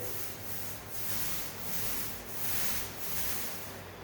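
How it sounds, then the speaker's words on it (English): A first coat of finish rubbed by hand into the grain of a dry hardwood floor, a soft continuous rubbing and scrubbing in slow, swelling strokes heard up close and alone. "I'm really working it into the wood grain, especially on this first coat"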